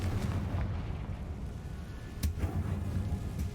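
Confringo and Bombarda spell explosions in the Hogwarts Legacy video game, a dense, rumbling barrage of booms with a sharper blast about two-thirds of the way through.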